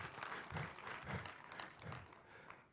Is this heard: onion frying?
no